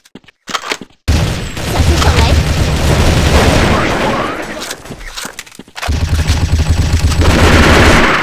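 A grenade blast booms in a mobile shooter game, followed by sustained loud gunfire and rumbling, then a brief drop and another heavy burst of shooting; no speech is heard.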